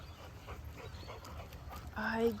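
A neglected dog whimpers with short thin whines near the end, faint under people talking nearby.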